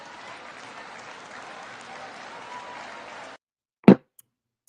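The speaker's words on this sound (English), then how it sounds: "That's those dumb seals that's clapping for him" A crowd of people claps and applauds in a steady, dense wash for about three seconds, then stops abruptly, leaving silence broken by one sharp thump.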